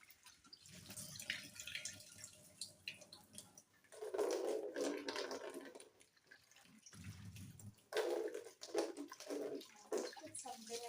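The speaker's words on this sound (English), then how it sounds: "Just rinse the bucket." Water from a tap gushes into a bucket in on-and-off bursts as it is rinsed, with splashing surges and quieter drips between them.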